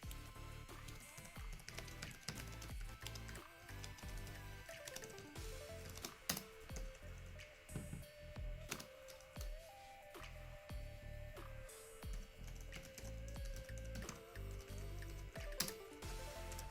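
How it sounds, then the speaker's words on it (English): Keys tapped on an Acer Predator Helios 500 gaming laptop keyboard with RGB backlighting, a steady stream of quiet, close clicky keystrokes under faint background tones, with no voices. "I did find the keyboard to be a bit noisy when typing"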